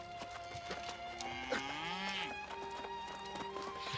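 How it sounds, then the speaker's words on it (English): Cattle in the video game New World: Aeternum: low drawn-out moos rise and bend in pitch over a busy town ambience with scattered clicks and hoof-like taps, moderately near. "The cows are mooing."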